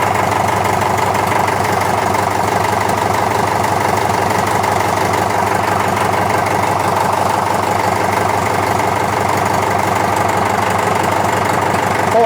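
A David Brown 990 tractor's diesel engine idles steadily, a loud, close, continuous knocking chug without a break.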